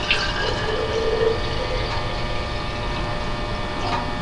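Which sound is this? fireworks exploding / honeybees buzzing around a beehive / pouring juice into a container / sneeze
pouring juice into a container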